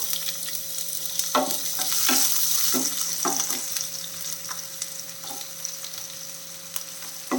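Chopped medium-sized onions frying in a pan for a tomato chutney, a steady close sizzle with intermittent stirring scrapes and clicks throughout, no talking.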